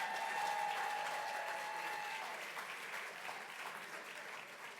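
A gala audience at a country club applauds its sponsors, steady moderate clapping that fades gradually over about five seconds, with faint tones in the room beneath it.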